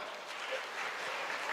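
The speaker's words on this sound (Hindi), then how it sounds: "आप सारे लोगों के लिए जोरदार तालियां" Faint, diffuse applause from an audience at a religious initiation festival, a soft even wash of clapping heard briefly from a distance.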